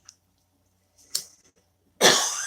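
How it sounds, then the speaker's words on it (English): A man coughs indoors, a faint short burst and a sharper cough, then one loud, harsh, rasping cough, with no talk. "you heard him cough"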